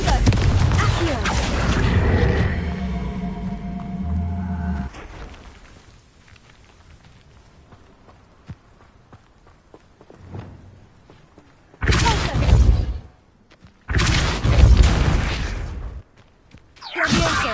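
Incendio, Confringo and Accio spells cast in the Hogwarts Legacy video game: a loud tonal opening burst, a long quiet stretch, then two separate loud whooshing, booming blasts near the end.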